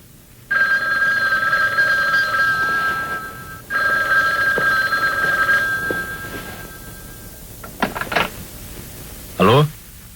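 An old telephone bell rings in two long bursts with a short gap between them, loud and close indoors, followed by the clatter of the receiver being picked up and handled.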